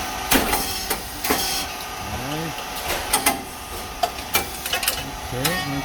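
A SYP4509 rice cake machine with titanium-coated moulds presses white and brown rice into cakes, giving off sharp pops, clacks and short hissing bursts at irregular intervals over a steady hum.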